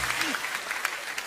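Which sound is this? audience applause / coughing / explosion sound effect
audience applause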